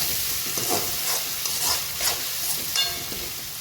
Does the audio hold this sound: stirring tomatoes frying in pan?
yes